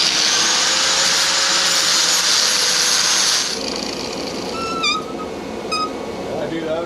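A power tool grinding down a weld in a carport forge knife-making setup, a loud steady high whine for several seconds, then a lower rougher grind with short squealing chirps.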